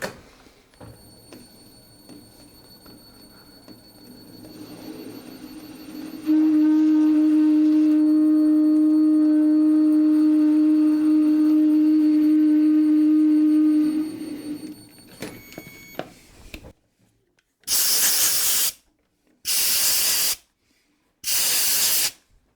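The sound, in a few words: lathe threading tool making slow scraping pass on thread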